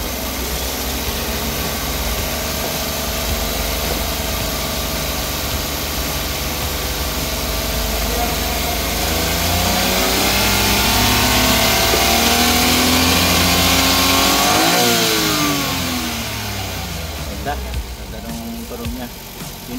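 Suzuki DA17V van with an R06A engine running steadily, a close, continuous mechanical drone with timing-chain rattle, the pitch rising in a brief rev near the middle before settling back toward idle.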